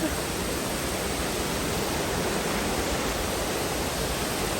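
Ditumabo's Mother Falls in Aurora sends out a constant, dense roar of cascading water, loud and close, with no break and no voices over it.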